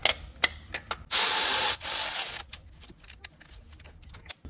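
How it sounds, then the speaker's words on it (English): A ratchet wrench clicks in short bursts on a spark plug of a 2011 Honda CR-V, alongside a longer rasping stretch of turning and scattered taps close by. "You're just having more control of the actual wrench or the ratchet."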